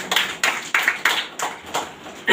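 Hands clap in unison during a Sunday worship service, with about seven sharp, evenly spaced beats in a steady rhythm, close and moderately loud, with no talk over them.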